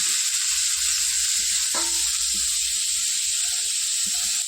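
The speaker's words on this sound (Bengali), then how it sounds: "এদিকে সবজিটা ভাজা হতে থাক" A loud, steady hiss of vegetables frying in a pan, with occasional soft knocks and clatters from stirring close by.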